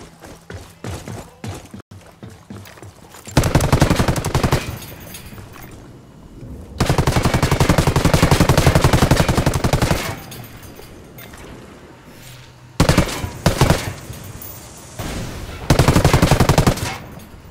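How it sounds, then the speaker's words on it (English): Automatic gunfire from the tactical shooter game Ghost Recon Wildlands rattles out in several long, loud bursts separated by quieter gaps, with rapid shots stacked tightly within each burst. "I'm opening fire."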